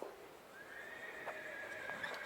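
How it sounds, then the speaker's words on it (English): A horse neighs in a long, high whinny at a distance, heard clearly over a quiet background. "Oh, someone neighed."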